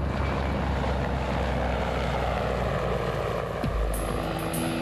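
Mi-24D Hind twin-turbine military helicopter in flight, a steady, loud rotor and engine drone that holds evenly throughout with no talk.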